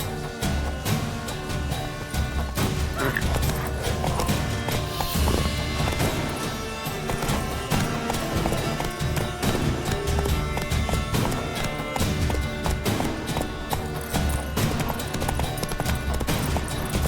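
Roach, Geralt's horse in The Witcher 3: Wild Hunt, galloping with rapid, steady clip-clop hoofbeats and an occasional neigh, mixed with a busy game soundscape and brief talk.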